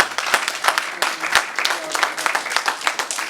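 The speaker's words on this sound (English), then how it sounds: "please give him a round of applause" An audience at a live gospel music event bursts into applause for a performer named Brother Leroy, a dense, fairly loud run of many hands clapping continuously with no voices on top.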